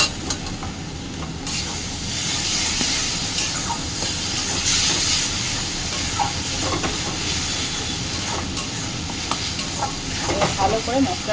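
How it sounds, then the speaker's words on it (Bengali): Ginger garlic paste and spices sizzle in a hot pan while being stirred, a steady close hiss with soft scraping and clinks of the spoon throughout. "ভালো করে মশলাটা কষিয়ে নেব"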